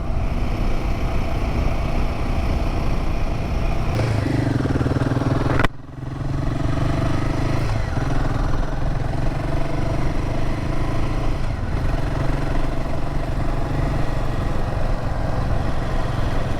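A Royal Enfield Himalayan 450 adventure motorcycle rides over a wet, rough road, its steady engine drone and road roar continuous and close, with a brief dip partway through before the hum resumes.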